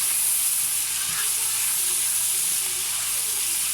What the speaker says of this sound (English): At this point now, I'm going to be adding in our green beans, sweet corns, and all that. So I'm going to simmer together.